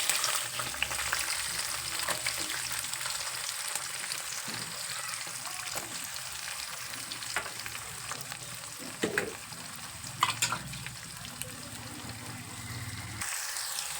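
Green chillies and onions fry in a pan for a green bean curry, giving a soft steady sizzle with occasional stirring scrapes and clinks, fairly quiet and close, with no voices.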